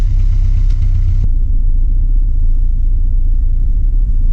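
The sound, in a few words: van engine with exhaust leak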